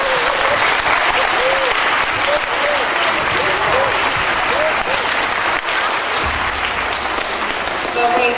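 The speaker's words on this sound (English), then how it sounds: "every single student in this room deserves a round of applause for how hard you work every day at the school." A room full of people applauds students at a school gathering, a dense, steady wash of clapping that fills the whole stretch, with a few voices faintly mixed in.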